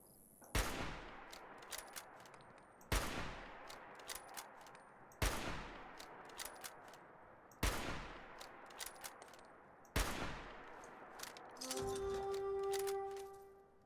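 A hard-recoiling gun fired in Fallout 76, five spaced single shots with ringing tails and small clicks between them, followed by a tonal game chime near the end.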